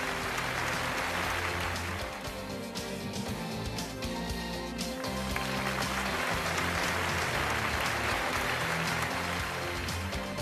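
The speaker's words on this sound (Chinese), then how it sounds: "再次把掌声送给梁军" Audience applause at a jade-appraisal award ceremony after a prize presentation, sustained and dense for the full length, loud and steady, with music underneath and no clear speech.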